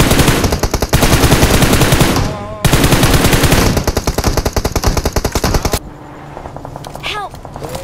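Rapid automatic gunfire from a BGMI mobile battle-royale match, loud and nearly continuous bursts with a short break, then fading to sparse distant shots; players talk over it.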